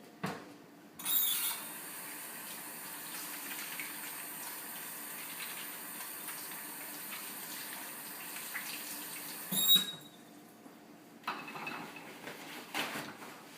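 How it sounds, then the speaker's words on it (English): A tap runs steadily while hands are washed under it before meat preparation, a close, continuous gush with a few splashes and brief breaks in the flow. "now I'm going to wash my hands before I begin preparing the meat"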